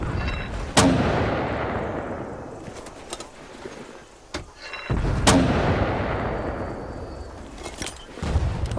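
Mortar rounds firing in the Vietnam-era video game Hell Let Loose, two sharp booming launches several seconds apart, each trailing off in a long rumbling echo, with smaller distant thuds between them.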